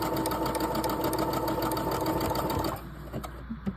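A sewing machine runs steadily, stitching clips onto hair extension wefts, its rapid needle rhythm humming for most of the moment before stopping abruptly and leaving quieter handling noise.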